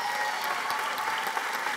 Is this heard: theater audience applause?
yes